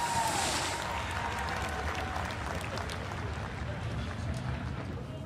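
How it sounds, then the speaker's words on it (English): Crowd applause for the race winner in victory lane at Lucas Oil Speedway after a Lucas Oil Late Model Dirt Series feature, distant and diffuse clapping and cheering under a steady outdoor rumble. "How about a round of applause, ladies and gentlemen, for your winner, Superman Jonathan Davenport"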